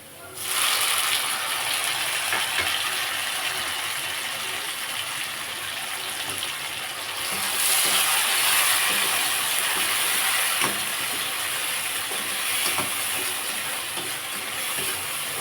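Tomatoes tossed into onions already frying in a pan for a prawn and chana dal curry, giving a steady, close hiss and sizzle with occasional stirring scrapes that swell louder partway through.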